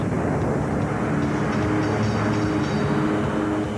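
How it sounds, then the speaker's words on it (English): A P-3 Orion maritime patrol aircraft drones steadily in flight, a loud, continuous broadband engine roar with no breaks or speech. "Tracking them from above flies the hunter, the P-3 Orion."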